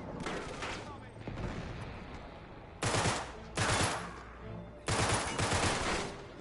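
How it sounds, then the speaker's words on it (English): A rapid-fire gun in the Uncharted 3: Drake's Deception video game fires in several quick bursts of automatic shots, with short gaps between volleys and a quieter stretch in the middle. "I like this rapid fire gun, it's pretty sick"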